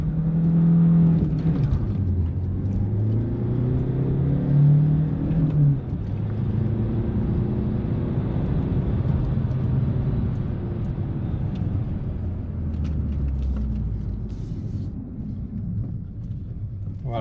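A Peugeot RCZ THP car pulls away hard from a standing start, its engine note rising in pitch through the revs and dropping back between gears, a loud continuous drone heard from close by.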